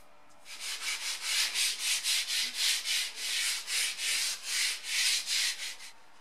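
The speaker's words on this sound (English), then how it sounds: "I then lightly sanded the first coat, which was now dry, in preparation for the second" Light hand sanding of a dried first dye coat on the leather of a BMW E30 M-Technic sports steering wheel: steady rhythmic rubbing strokes, about two or three per second, close and clear with no talk.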